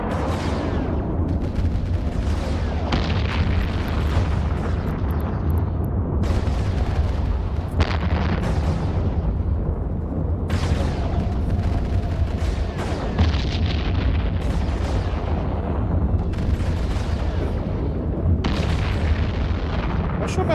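Missiles fired from a Legatus pound a ship in Eve Online space combat, a steady rumbling barrage with repeated heavy booming impacts every couple of seconds, loud and continuous throughout.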